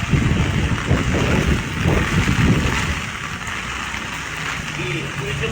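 Strong typhoon wind buffets the microphone in heavy low rumbling gusts, with people talking faintly underneath.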